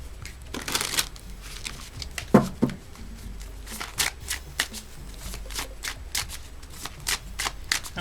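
Spirit animal oracle cards being shuffled by hand, a run of crisp riffling flutters and slaps repeating in quick bursts, close and clear with no talking.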